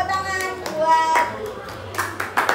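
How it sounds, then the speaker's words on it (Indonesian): A class claps for a student in a school art lesson, a burst of scattered hand claps from many people that follows and mixes with voices. "Beri tepuk tangan buat"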